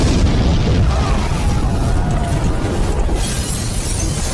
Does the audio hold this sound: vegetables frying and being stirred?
no